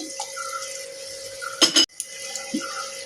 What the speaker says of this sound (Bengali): মশলা রেখেছিলাম সেই পাত্র ধোয়া জলটা দিয়ে দিচ্ছি।